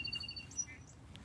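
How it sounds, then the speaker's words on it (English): Small garden birds chirp faintly in the distance among beds of tulips: a few thin, high tweets scattered over quiet outdoor ambience. "you can hear the birds chirping"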